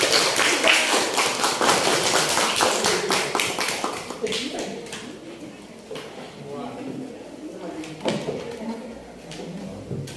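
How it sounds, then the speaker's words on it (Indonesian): Clapping from a group breaks out loudly and gradually thins, with a voice speaking over the fading applause. "Berikan tepuk tangan untuk kelompok"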